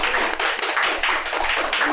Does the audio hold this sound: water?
no